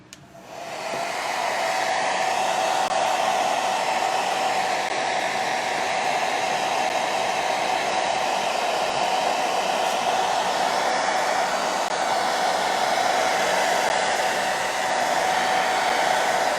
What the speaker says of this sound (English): so let's hit this with a hairdryer